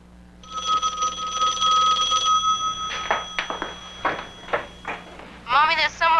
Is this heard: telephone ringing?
yes